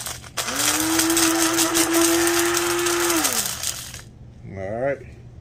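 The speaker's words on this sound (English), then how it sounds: "I'm going to start off by breaking it up right here in my little portable grinder or blender" A small portable blender grinds charcoal for black powder, a loud steady motor whine with rattling chunks lasting about three seconds, then winding down and stopping before a short voice sound.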